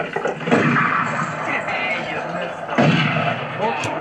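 Gunshots crack out amid a noisy field scene, a couple of sharp reports standing above a dense rumbling background, with voices talking over them.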